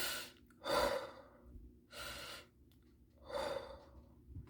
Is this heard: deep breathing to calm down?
yes